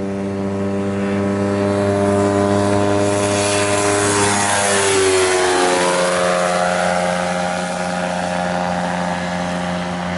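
A light aircraft's single propeller engine drones loud and steady through a takeoff roll, with layered harmonic tones bending downward in pitch midway as the plane lifts off the runway in a circuit.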